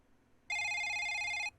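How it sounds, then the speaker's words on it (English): A single electronic ringtone burst from a mobile phone in a quiet, dark room, a steady bright tone lasting about a second, close and clear with nothing else around it. "A halo of light surrounded my phone. It was going off."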